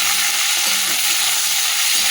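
Chopped onion hits hot oil already seasoned with cumin, bay leaf and whole garam masala, producing a loud, close, continuous sizzle with no voices.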